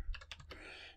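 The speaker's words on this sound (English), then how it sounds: "we're just going to type in" Keys clatter on a computer keyboard in a quick burst of several close, soft keystrokes typing a Linux terminal command, with a faint quiet room tone behind them.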